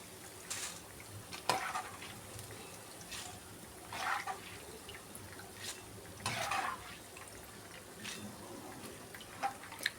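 Boondi batter frying in hot oil, a soft continuous sizzle broken by several brief bursts of crackle and clinks of a ladle, fairly quiet with no voices.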